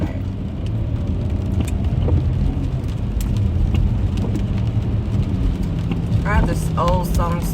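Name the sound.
rain heard while driving in a car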